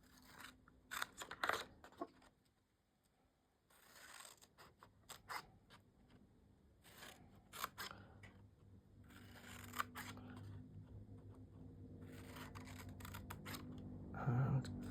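Scissors snip through patterned craft paper for a DIY treat box, a run of crisp close cuts in bursts separated by quieter handling and rustling.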